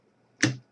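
A single quick click of a computer keyboard spacebar being pressed down, faint and close, with near silence around it.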